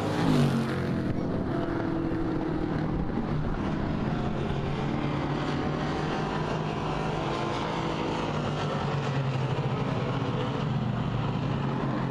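ABC stock cars roar around Springport Motor Speedway in a continuous, loud engine drone that rises and falls as the pack circles the oval, with no voices heard.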